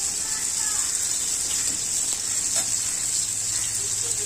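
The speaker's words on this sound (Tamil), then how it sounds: "நல்லா ஃப்ரை பண்ணணும்." Pre-boiled goat brain fries in a pan with a steady, bright sizzle, close and continuous, with faint crackles and no speech.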